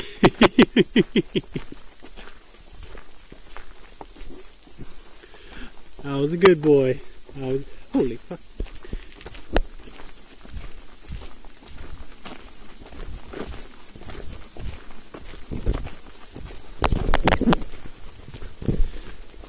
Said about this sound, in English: Can you guys hear the cicadas? They're like out in force at the moment